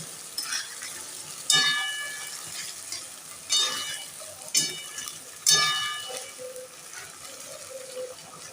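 Spice masala with paneer, cashew, garam masala and green chilli paste fries in a pan, sizzling steadily while a spatula scrapes and clanks against the metal in several sharp strokes.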